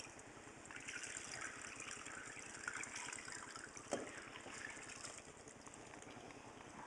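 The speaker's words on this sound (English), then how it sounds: "I'm going to pour the liquid into a bowl." Melted beef tallow from rendered fat poured from a pot into a bowl for homemade soap: a soft, continuous liquid trickle with a steady low hum underneath and one brief knock partway through, faint and without talk.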